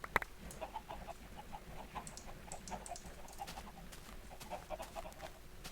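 Chickens cluck softly on a chicken farm in Minecraft, a run of short, repeated clucks at a steady, moderate level with no talking over them.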